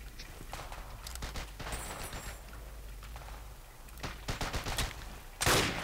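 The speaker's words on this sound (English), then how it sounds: "How did I miss that shot?" Scattered gunshots in a video game, several sharp cracks spread through the clip, mostly mid-distance, over a constant noisy battle background, with a louder burst at the end.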